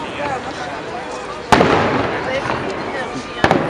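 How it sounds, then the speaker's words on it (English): Fireworks burst outdoors near a classic car gathering, two sharp loud booms about two seconds apart over a crackling, hissing background of distant pops. "And here's the fireworks going on."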